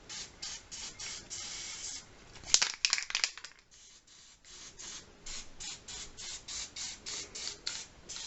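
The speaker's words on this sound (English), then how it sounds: "So I just want to add some spray paint over this." Short bursts of spray paint hiss from an aerosol can onto a horror sculpture, a rhythmic series of quiet pulses broken by a louder rattle and crinkle midway, then more evenly spaced sprays.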